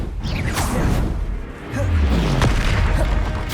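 Explosive Confringo spell bursts in the game Hogwarts Legacy, with a sustained rumbling boom, a rising whoosh and a low descending sweep, loud and continuous with no voices.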